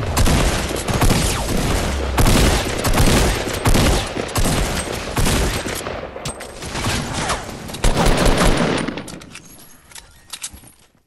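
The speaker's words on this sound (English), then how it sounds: "I'm shooting the grenade launcher over there" Heavy video game combat with grenade launcher fire, a loud, dense barrage of booming blasts and rapid gunfire that runs for about eight seconds before thinning into scattered distant shots.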